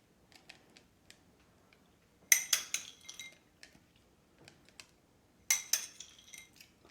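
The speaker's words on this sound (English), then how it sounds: "So let's just put some chopped peanuts on there." Chopped peanuts scatter onto a peanut butter pie in two bursts of light, crisp pattering clicks, close and fairly quiet, separated by near silence.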